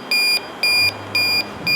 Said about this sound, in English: if this detects any refrigerant, I would imagine this beep should change